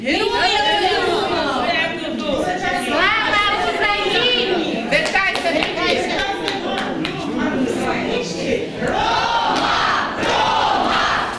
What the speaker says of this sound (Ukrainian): Учні підтримали дружними скандуваннями.